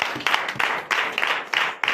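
A church congregation at a night deliverance service in Comè, Benin, bursts into rhythmic bursts of applause and cheering, repeated waves of clapping filling the room.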